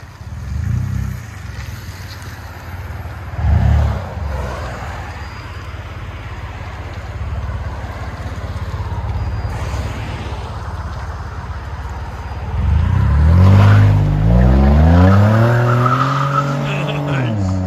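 A 2013 Toyota Highlander 3.5L V6 with dual exhaust and muffler delete, heard from inside, drones and rises in loud revving sweeps as it accelerates, with speech present alongside the engine.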